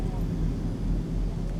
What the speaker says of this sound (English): go on a little bit to give the plane a little bit of thrust to start moving